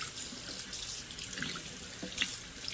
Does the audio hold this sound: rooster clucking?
no